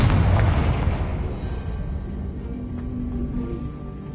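A deep, booming explosion from a Confringo blasting spell in the video game Hogwarts Legacy, loud at the start and rumbling away over a few seconds, with faint game ambience after.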